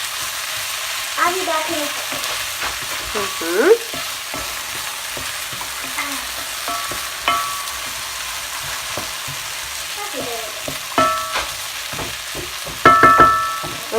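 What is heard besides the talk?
stirring vegan minestrone soup sizzling in a pot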